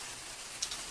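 Soft, steady hiss of falling rain, even and fairly faint, with a couple of tiny drop ticks near the end.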